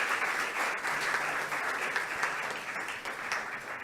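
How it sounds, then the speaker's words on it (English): Sustained, dense applause from a conference audience honoring faculty members who judged oral and poster presentations at a research conference, steady and close throughout with no break. "let's give them a big round of applause"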